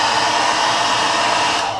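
A heat gun blows steadily at close range while heat-setting paint on a bluegill crankbait lure, a loud, even broadband roar that holds unchanged from start to finish with no voices.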